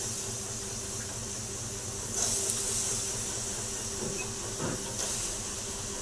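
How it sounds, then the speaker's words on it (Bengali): Soaked chickpeas tipped into a hot wok set up a steady loud hiss and sizzle that runs the whole way, swelling briefly a couple of times, with no talking. "তো দেখো আমি এখানে কড়াই বসিয়ে নিয়েছি তার মধ্যে দিয়ে দিচ্ছি ভিজিয়ে রাখা ছোলা"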